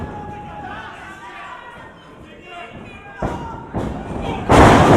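A wrestler lands a missile drop kick in the ring, a heavy thud and slam that hits near the end after building noise from the crowd, with commentary talk running underneath.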